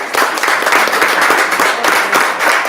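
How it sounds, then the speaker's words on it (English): Steady applause from an audience at a school board of education meeting, a dense, continuous wash of clapping hands lasting throughout at a fairly loud, even level. "Another round of applause."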